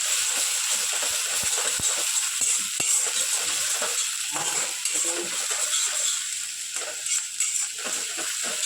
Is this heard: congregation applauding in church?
no